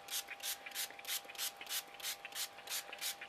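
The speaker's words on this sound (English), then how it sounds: "Really give it a good douse of paint, spray." A spray paint can hisses onto a wooden board in about ten short, even bursts, quiet and close, with a faint steady tone beneath and no voices.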